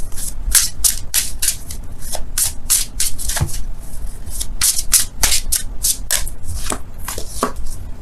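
A deck of tarot cards being shuffled by hand, a close run of quick riffles and brushing snaps in uneven bursts that continue without pause, no talk over them.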